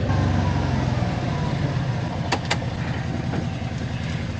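Farm tractor engine runs close by during a broccoli harvest, a steady low rumbling drone with a regular throb, plus two brief sharp clicks partway through.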